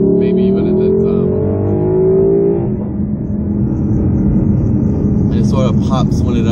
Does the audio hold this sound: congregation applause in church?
no